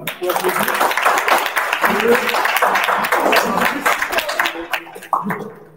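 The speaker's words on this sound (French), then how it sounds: "je crois que vous pouvez les applaudir" An audience at an event with the Patrouille de France claps and cheers in a lively burst, mixed with voices and some shouting, trailing off toward the end.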